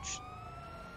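A police car siren in a GTA roleplay game, its steady wailing tones holding at a moderate level against a low background rumble.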